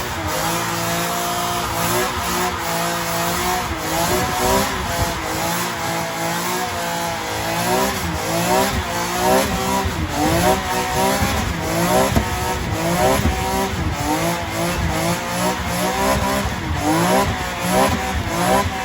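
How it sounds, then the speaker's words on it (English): A BMW E46 M3 performs a burnout, its engine revving hard and fluctuating in pitch while the tires squeal and smoke continuously, loud and close throughout with no talk. "I says we do a little burnout"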